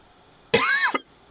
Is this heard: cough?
yes